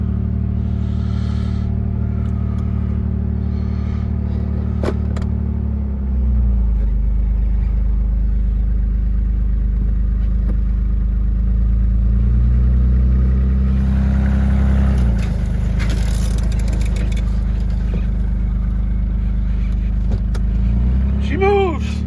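A 1989 Toyota pickup engine runs steadily after a long rest, a loud low drone that rises and falls as the truck creeps forward with little braking, close to the listener, with occasional voices.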